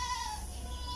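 Goats bleat at a livestock goat market in Ras Al Khaimah, UAE, a short, faint wavering call over low background rumble.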